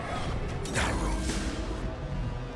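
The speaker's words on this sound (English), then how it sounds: "Rain of arrows." Rain of arrows attack in the video game Hard West 2: a dense, loud whooshing barrage with a sharp swishing sweep and crashing impacts, filling the whole moment.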